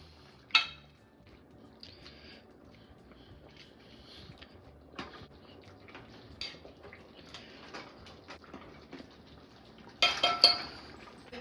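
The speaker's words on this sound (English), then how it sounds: "Alright, so now we're going to mash them." Boiled tender potatoes being mashed in a pot for creamy loaded potato soup, with soft repeated pressing knocks and metal clinks at a steady working pace, close and fairly quiet, a sharper clatter near the end, no talking.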